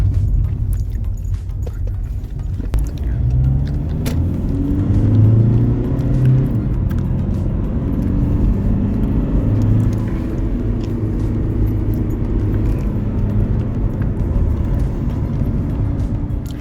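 A Volkswagen Golf rolls slowly over small potholes on a side street, its suspension thumping softly under a steady low engine and tyre rumble, heard from inside the car.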